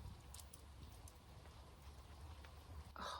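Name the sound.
rain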